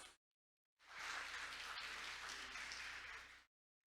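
A conference audience breaks into a burst of applause lasting nearly three seconds, dense and steady clapping from a sizeable crowd, with silence before and after.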